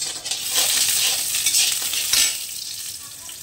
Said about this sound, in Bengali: কড়াই তেল দিয়ে দিলাম, আর মটরের ডালের বড়িটা একটু ভেজে নেব